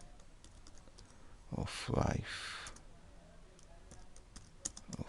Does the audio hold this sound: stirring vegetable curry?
no